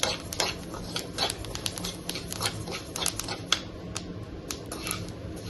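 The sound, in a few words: flax seeds crackling and popping while roasting in a pan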